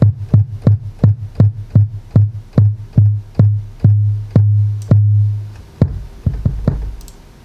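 Sub bass from the GARDNSOUND Stubby plugin in a chill trap beat: a run of deep, booming notes in a steady pulsing rhythm, each with a short attack and a sustained low tone, then slowing into a few irregular hits.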